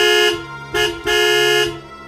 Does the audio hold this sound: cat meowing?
no